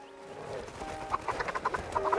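Ptarmigans cluck in quick, uneven bursts as dogs catch them in The Red Lantern video game, the calls growing busier toward the end over a quiet background.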